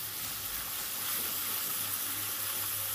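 Chopped green chillies fry in a pan with a steady, bright, hissing sizzle that holds evenly throughout, with no voices.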